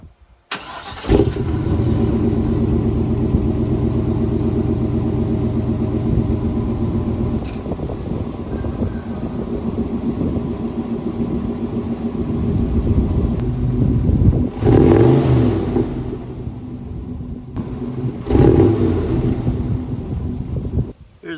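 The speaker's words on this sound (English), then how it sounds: "we're going to go ahead and do a cold start and see if we can hear any difference." An OBS Chevy truck fitted with new black exhaust tips cold starts, cranking and catching into a loud, steady low rumbling idle close to the microphone, with wind buffeting and a couple of brief revs or bumps near the end.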